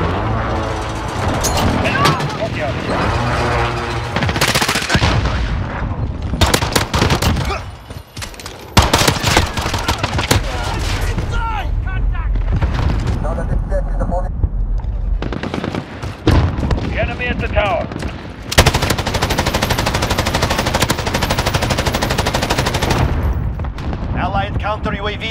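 M249 SAW Para machine gun in a Modern Warfare video game, loud sustained bursts of automatic fire broken by short pauses, with booms and game voice callouts mixed in.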